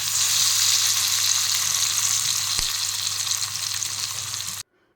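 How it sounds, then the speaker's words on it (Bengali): Coated potato pieces deep frying in hot oil give a loud, continuous bubbling sizzle with a faint low hum beneath, then cut off abruptly near the end. "এইভাবে করে একটু লাল লাল করে এগুলোকে ভেজে নিতে হবে।"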